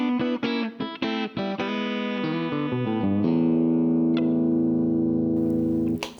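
An electric guitar on its single coil pickup plays a quick run of clean, bright notes through the ML Sound Lab Amped: Humble amp simulator plugin, then lets a final chord ring out and sustain, close and steady with no talking.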